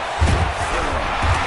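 Dense stadium crowd roar in the football video game Madden during a 2-point conversion attempt, a loud sustained wall of noise with low rhythmic thumps or stomps pulsing twice, no clear talk over it.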